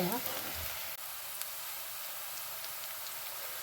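Chopped onions frying in oil for paneer bhurji give off a faint, even hiss of sizzling, quiet and steady throughout.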